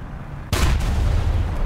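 A single tank cannon shot in War Thunder, one sudden loud boom breaking in after a low rumbling idle and leaving a dense roaring tail.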